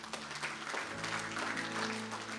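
A church congregation at a Sunday worship service breaks into applause, a steady wash of many hands clapping together, with a low sustained music tone underneath.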